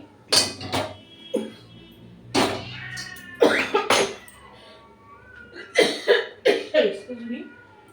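Someone cooking mango chutney coughs from chili heat, giving several sharp, close coughs in bursts with pauses, alongside light clatter of pots and utensils in a kitchen.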